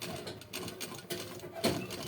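Domestic sewing machine running in a steady, faint mechanical chatter as it strains through thick churidar fabric, unevenly paced with slight hesitations.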